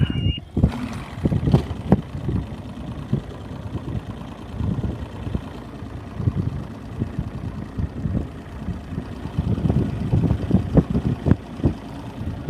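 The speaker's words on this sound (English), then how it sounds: "We're gonna make a quick little move in the boat." A boat moves across the water on a lunchtime fishing trip, its engine rumbling low with repeated thumps and slaps of the hull against the water, close and fairly loud, with wind buffeting the microphone.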